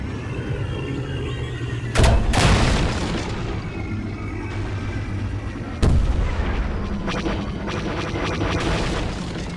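Explosions against a spaceship in the X-Wing space combat game: two loud, sudden booms about four seconds apart, each with a rumbling tail, set over a steady low engine drone and game ambience.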